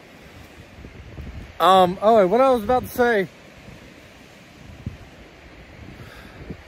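Gusty wind buffets the microphone on an exposed high ridge in the Smoky Mountains along the Appalachian Trail, a steady broadband rumble that runs throughout, with a brief spoken phrase in the middle.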